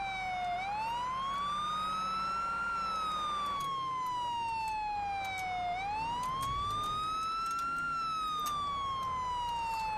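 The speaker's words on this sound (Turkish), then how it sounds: "Farkındaysanız o kadar siren açıyorum arkadaşlar." A police siren in GTA San Andreas wails, rising and falling in long sweeps, loud and steady throughout, with no voices over it.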